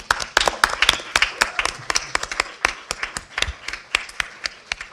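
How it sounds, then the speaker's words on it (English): Applause from a meeting audience at a state board of education session, welcoming an award-winning educator to the table: several people clapping unevenly with sharp, distinct claps, moderately close, for about five seconds. "Let's give her an applause, everybody."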